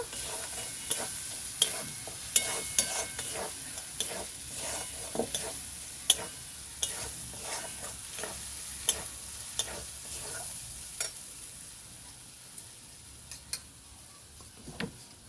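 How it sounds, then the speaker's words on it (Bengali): Cumin paste being stirred into spiced potatoes frying in a pan for masala alu, a steady sizzle broken by regular sharp taps of the spoon against the pan, close and fairly quiet, with no talking. "দিয়ে দেবো জিরে বাটা ভালো করে মিক্স করে নেবো"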